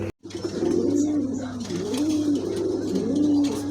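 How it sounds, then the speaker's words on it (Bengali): A pair of King pigeons, one male and one female, coo close by in a steady, repeated rolling pattern of low throaty calls, clear and continuous with no talk. "দেখার মতো দুটো কবুতর আছে"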